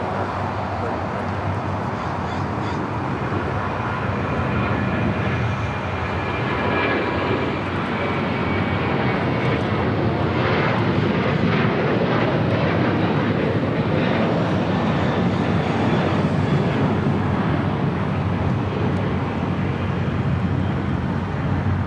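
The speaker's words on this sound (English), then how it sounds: "Next takeoff is United Airlines Flight 1006 heading to Las Vegas. 737-900 ER." A United Airlines Boeing 737-900ER takes off at LAX, its jet engines giving a loud, broad roar that holds steady and swells slightly over twenty seconds.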